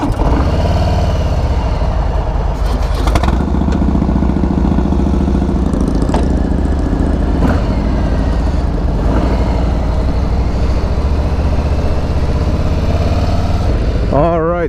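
A 2018 Harley-Davidson Street Bob with the 107 cubic inch Milwaukee-Eight V-twin gives a continuous, loud, low engine rumble close by. It stays steady throughout, with a few brief rises.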